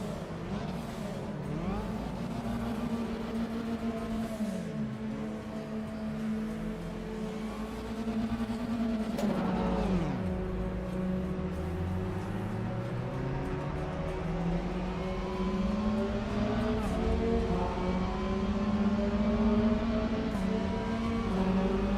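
A Mazda MX-5 engine in the RaceRoom racing game revs steadily through gear changes, rising and falling in a continuous drone that stays loud and close throughout.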